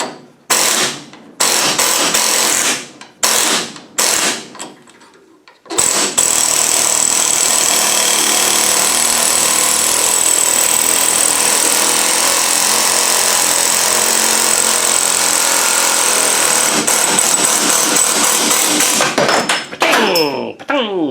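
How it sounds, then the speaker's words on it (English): Rusty bolts being punched out of an upper fulcrum bracket clamped in a vise: several loud, sharp metallic blows in quick succession, then a long, continuous loud grinding, rattling power-tool roar, and a few more impacts at the end. "Let's try and put them in the vise tight and punch them."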